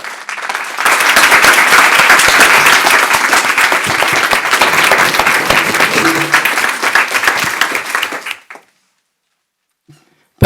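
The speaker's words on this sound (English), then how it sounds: "I'd like to ask the audience to please stand and join me in a round of applause for our Board of Education" An audience at a school board meeting applauds, a loud, dense burst of clapping that holds for about eight seconds, then cuts off to silence apart from a couple of brief knocks.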